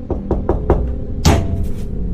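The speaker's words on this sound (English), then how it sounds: "On another day, he tries to knock back, and this is what happens." Four quick knocks on a door come in an even rhythm, followed by a louder, sharper bang after a short pause, heard fairly close in a quiet room during a scary ghost encounter.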